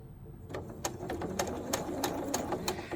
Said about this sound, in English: I need to sew from corner to corner